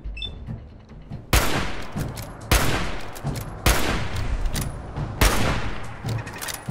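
Turret gunfire in the video game Fallout 4 comes as four loud bursts of rapid shots spaced about a second apart, each a sharp crackling volley over a steady background rumble, with no talking.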